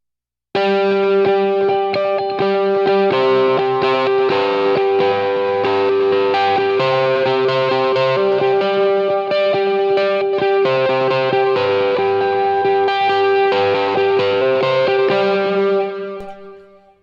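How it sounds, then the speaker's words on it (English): Electric guitar played through a delay, its notes ringing and overlapping in dense echoing repeats, loud and steady before trailing off at the end. "you hear the delay a lot more on its way out"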